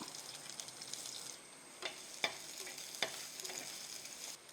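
Chopped shallots frying in hot oil with mustard seeds, a steady soft sizzle with a few sharp pops and crackles, close and fairly quiet, no talking.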